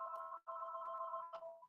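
A telephone rings with a steady electronic warble in two bursts separated by a short gap, followed by a briefer chirp, heard close and clear with no talking.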